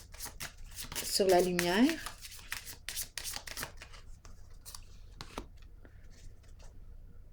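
Tarot cards are riffled and shuffled at close range, a quick papery burst followed by scattered taps and slides as cards are drawn and laid down, with someone speaking French over the card handling.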